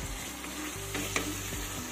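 Masala spices sautéing in oil, a brief, steady close-up sizzle with a soft stirring scrape partway through and no talking.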